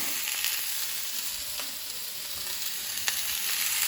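Chicken pieces browning in a frying pan for a Haitian Cajun dish give off a steady, continuous sizzle with faint crackles, close and alone.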